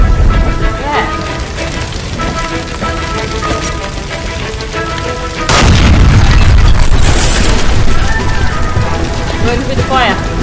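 A loud burst in L.A. Noire: a gas line near a stove explodes, a sudden broad boom that jumps up over steady game music and ambience and then rumbles on, with voices talking throughout.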